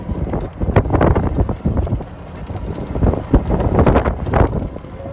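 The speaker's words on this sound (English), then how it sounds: "as you can hear, the wind is blowing hard" Strong wind gusting across an open golf course, buffeting the microphone with a steady roaring rumble that surges and fades, with no talk.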